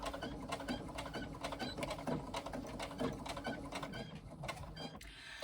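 A sewing machine stitches a tote bag pocket facing in a fast, even mechanical chatter, fairly quiet, pausing briefly near the end.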